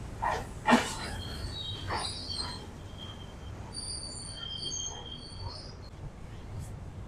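The Charminar SF Express pulls into platform 10 at Vijayawada Junction, its wheels giving off thin, drawn-out metallic squeals over a low rolling rumble, with a couple of louder knocks near the start.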